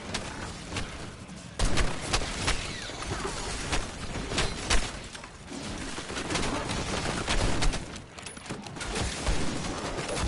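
Dense gunfire in Black Ops 6 Zombies, loud rapid shots and bursts packed together almost without pause, with sharp cracks standing out from a constant wash of battle noise.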